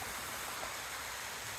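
Steady flowing water, like a stream or small waterfall, rushes continuously at an even level with no pauses and no voices over it.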